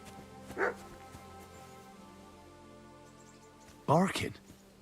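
A dog barks in Kingdom Come: Deliverance 2, two short bursts with a brief yelp early and a louder cluster of barks near the end, set over quiet game ambience.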